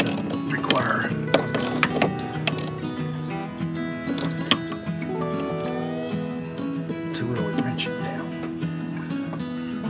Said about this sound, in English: This is a 10 inch ratchet.